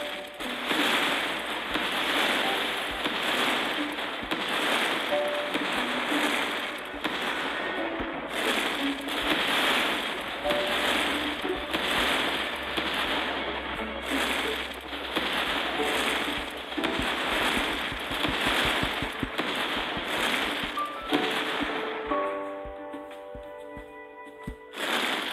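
Buildings are smashed in the City Smash 2 video game, producing dense, continuous crackling and crumbling destruction noise with repeated bursts of debris, loud and steady throughout.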